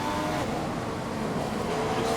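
An F1 car from the F1 2015 racing game, driving in Hungary, gives a continuous high engine whine and road roar at steady volume, with no voices over it.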